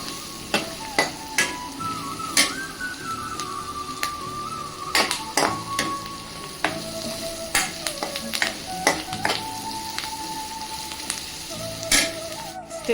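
Curry leaves sizzling in hot oil in a pan while a spatula scrapes and taps against the metal in irregular, sharp clicks over a steady frying hiss.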